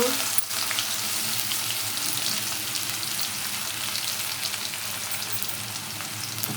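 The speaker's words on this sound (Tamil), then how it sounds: "இடித்து வச்சு இஞ்சி போட்டுக்கலாங்க" Crushed ginger frying in hot oil in a pan while an egg poriyal is cooked, a loud, continuous, even sizzle that fills the whole stretch after a brief clank at the start.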